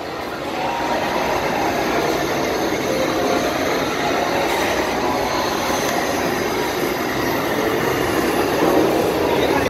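A train rolls past nearby with a steady, loud rushing roar and rattling wheels that stays constant for several seconds.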